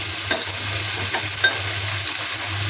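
Tomatoes with onion paste fry quietly in a pan, a soft steady sizzle with a few light stirring scrapes and a faint utensil clink over a low hum.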